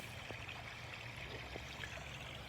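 Water trickles gently over rock and slate in a small garden wishing-well waterfall, a faint, steady burble and splash close by with no talking.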